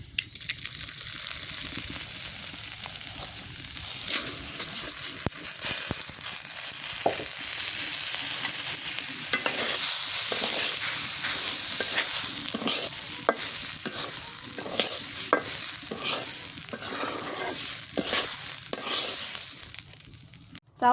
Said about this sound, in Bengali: এই জন্য আমি হচ্ছে ঘিয়ের মধ্যে ভালো করে চাউলটা ভেজে নিতে, একদম লাল লাল করে ভাজবো।